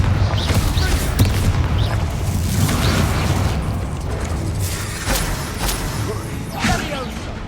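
Confringo and Bombarda explosive spells blast in Hogwarts Legacy, with repeated booming bursts and thuds over a rumbling game soundscape while a voice speaks at times.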